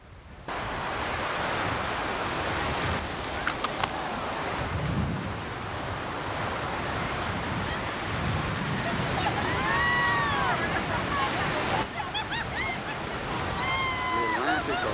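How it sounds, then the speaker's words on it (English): Atlantic Ocean surf at Goree Island, a continuous roar of breaking waves mixed with heavy wind buffeting the microphone, steady and loud throughout, with brief faint voices in the background. "The Atlantic Ocean."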